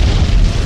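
A heavy explosion sound effect from video editing software, used in a Super Mario Odyssey highlight edit, booms with dense deep rumble throughout, loud and continuous with no talking.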